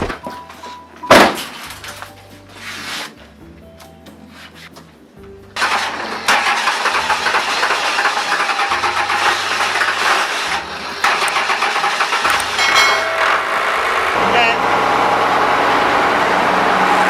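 A Ford King Ranch truck with a swapped Cummins 5.9 24-valve diesel cranks, then fires and runs at a loud, steady clatter that swells as it revs.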